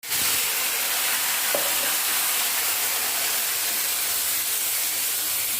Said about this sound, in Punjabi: ਲੋ ਜੀ ਤੜਕਾ ਵੀ ਲਾਤਾ